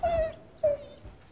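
Two short, high, tonal dog whimpers, each trailing off, with a brief pause between them; the sick dog is close and fairly quiet, with no talk over it.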